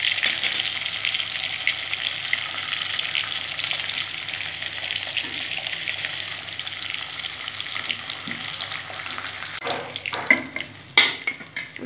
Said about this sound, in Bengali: লাল লাল করে ভেজে নেব মাছ। সরষের তেলে রান্নাটা করছি অবশ্যই।